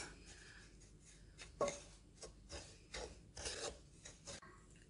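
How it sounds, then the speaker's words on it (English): Dry cocoa brownie ingredients being stirred and roasted in a pan, a soft raspy scraping that rubs back and forth in uneven strokes, close and quiet. "we're just going to add the dry ingredients and roast it a little bit"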